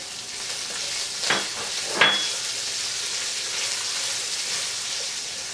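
Garlic and chopped red and green chillies fry in oil in a pan for gobi manchurian. There is a steady, close sizzle throughout, broken by two brief scraping stirs near the start.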